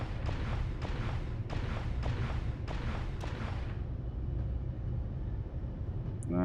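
A rocket launcher in Space Engineers firing a regular series of about six sharp launches over a low engine rumble, followed by a fading roar.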